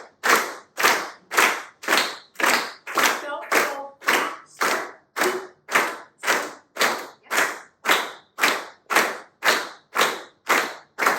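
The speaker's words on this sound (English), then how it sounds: "we're going to clap for about 30 seconds together" An audience claps together in a steady, even rhythm, roughly twenty loud, sharp claps at regular intervals with no talking.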